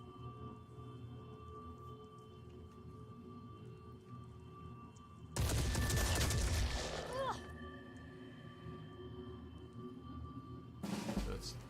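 Enemy gunner fire in Phoenix Point, heard as a loud, booming burst of shots about two seconds long that stands out against a quiet ambient drone, followed later by a shorter, similar blast.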